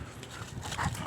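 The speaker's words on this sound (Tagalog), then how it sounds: "Suntukan ng mga aso." Rough, scuffling animal noises with muffled growl-like bursts, close and continuous, as if dogs are tussling.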